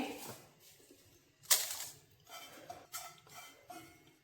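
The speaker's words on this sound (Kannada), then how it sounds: "ಇದನ್ನೀಗ ಮಿಕ್ಸರ್ ಜಾರಿಗೆ ಹಾಕ್ತಾ ಇದ್ದೀನಿ" Roasted dried chillies tipped into a steel mixer jar give a few crisp rattles and clinks, one sharp louder clatter and then softer scattered taps, close up and otherwise quiet.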